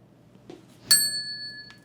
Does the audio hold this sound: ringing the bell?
yes